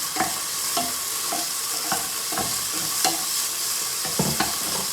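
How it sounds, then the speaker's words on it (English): Prawns sizzling in a hot pan for pad thai, a steady hiss punctuated by regular soft taps and scrapes of stirring, close and alone. "Now you can hear that getting really hot. From there I'm going to throw in my prawns."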